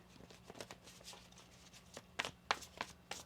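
Tarot cards shuffled by hand in a brief handling session, with soft riffling and a few sharper flicks and taps in the second half, close and fairly quiet, with no talking.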